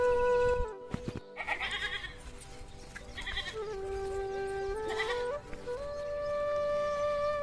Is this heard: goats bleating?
yes